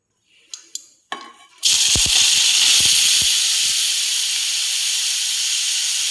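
Grated beetroot drops into hot ghee after a few light clinks and knocks, then a loud, steady sizzle takes over close by with a few soft thuds, fading only slightly over several seconds.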